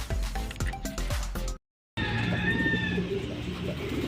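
Homing pigeons coo and call near a loft, with bird sounds and soft rustling at moderate loudness, a short silent gap midway, then steady chirping and cooing continuing.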